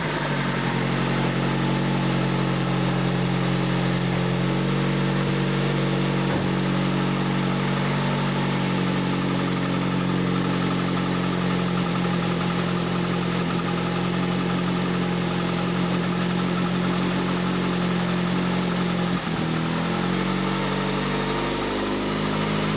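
After an engine swap, a Dodge Journey's engine idles steadily and loudly up close with a continuous low hum, and there is a short dip and catch near the end.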